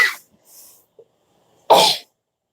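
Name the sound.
sneeze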